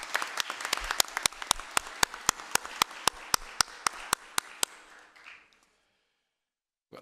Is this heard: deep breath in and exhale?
no